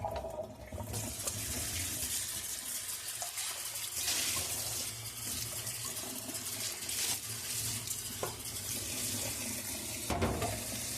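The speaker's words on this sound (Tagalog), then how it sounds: "Kailangan salain yung lentil." Tap water runs steadily over lentils being rinsed and strained in a sieve for an Arabic lentil dish, a close, continuous splashing hiss with small shifts in flow and no talking.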